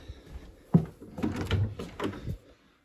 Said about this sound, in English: And then through this door here